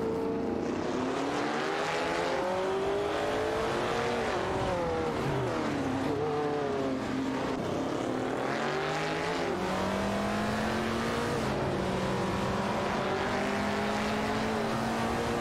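Several race car engines from an AI racing video game whine and sweep up and down in pitch, overlapping as cars pass and shift, forming a steady, dense, loud stream of engine noise with no talk.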